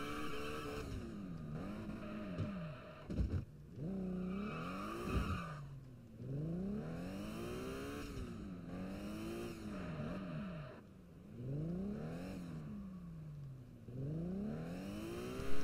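A Mercedes-Benz CLS 55 AMG on a spirited test drive, its V8 engine repeatedly revving up through the gears with rising pitch sweeps and brief drops at shifts, steady and close from inside the car.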